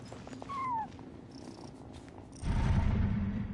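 A cat in the Genshin Impact game purrs in a low, rumbling burst near the end, after a brief rising cry and soft ambient game tones.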